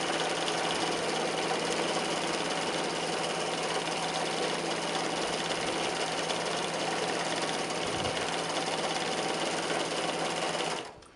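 A sewing machine runs a long, steady, close stitching line while quilting a basted quilt top, humming continuously for about eleven seconds before stopping abruptly.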